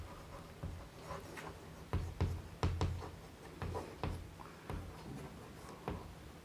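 Chalk or marker strokes on a board as a cumulative frequency curve is drawn in a statistics lesson, a faint series of tapping and scratching strokes in irregular bursts with no talking.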